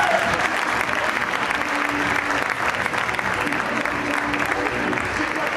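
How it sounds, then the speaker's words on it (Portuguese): An audience applauds at a costume contest in Braga, dense and sustained throughout, loud and close, with faint voices mixed into the crowd. "aplauso pra todos, gente, por favor."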